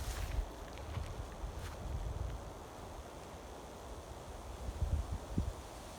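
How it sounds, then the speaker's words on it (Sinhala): Wind rushes softly through pine needles at a Kabaragala campsite in a faint, airy hiss, rising and falling slightly, with occasional low rumbles of wind on the microphone. "හුළඟ වදින සද්දේ තමයි ඔය"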